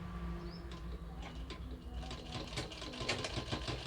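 A sewing machine stitches slowly along a pant zipper, its soft rhythmic needle taps building over a few seconds, close but fairly quiet, with faint background hum and no voices.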